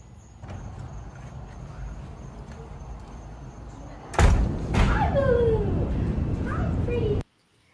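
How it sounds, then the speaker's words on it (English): A door shuts with a sharp, heavy thud partway through, followed by a steady hiss with a few faint whining tones. "So the second she shuts the door,"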